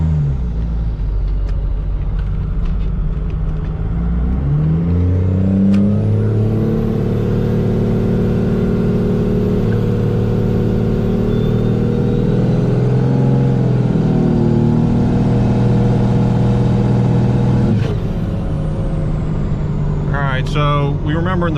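A truck with a 12-valve diesel engine fitted with a Mack rack plug rumbles at highway speed. The engine gives a deep, steady drone with rising revs early on, and road noise runs throughout under occasional talk.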